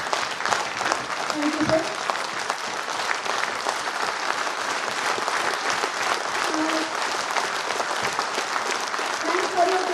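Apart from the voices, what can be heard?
audience applause and clapping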